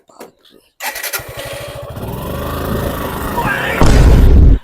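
A motorcycle being push-started: after a short silence and a few faint voices, the engine catches with a rapid sputtering pulse, then settles into a steady close running note that swells louder at the end.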